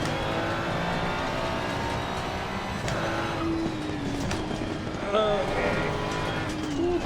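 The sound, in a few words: racing car engine in a video game on a sim rig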